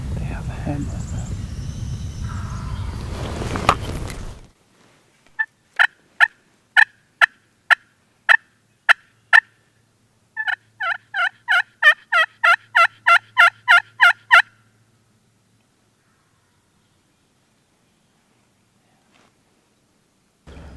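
After someone talks, a turkey call sounds off in evenly spaced sharp yelps, then a faster run of rapid notes; distant low gobbling from a group of wild turkey gobblers rumbles faintly underneath, on Michigan public land.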